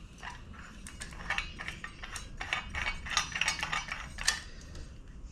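Metal fittings of an oil catch can kit for a 79 series Toyota Landcruiser being screwed together by hand, giving close, irregular ratcheting clicks and small metallic ticks in quick bursts.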